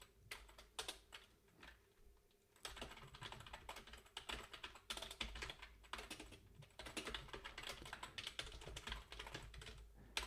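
Someone types code on a computer keyboard, a steady patter of quiet, close key clicks in bursts with short pauses, and no voices.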